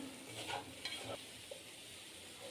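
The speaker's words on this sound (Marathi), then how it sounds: "हे सारण हलवून घ्यायचं आहे" Modak filling stirred in a pan, soft scraping of the spoon with a couple of light knocks against the pan, faint and close, with a gentle sizzle underneath.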